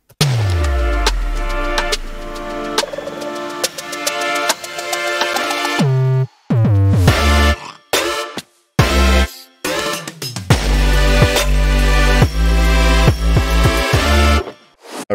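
A Minecraft remix builds toward its drop, with dense layered electronic music, heavy bass, stuttering cut-outs and brief silent gaps before it surges back at full loudness.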